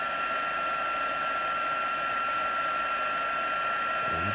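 A heat tool drones in a steady, close whirring hiss throughout, melting embossing powder on a vellum card, with no break or voices.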